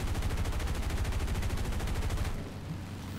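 Rapid, evenly spaced machine-gun fire from .50-calibre guns strafing ground targets in War Thunder, a loud continuous burst lasting about two seconds before cutting off to a quieter hum.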